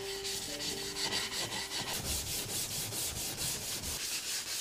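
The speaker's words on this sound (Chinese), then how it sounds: "然后是打磨。" Steady abrasive rubbing of sanding a lacquered feng shui compass (luopan), a continuous close scratchy hiss in even back-and-forth strokes, with a brief faint tone at the start.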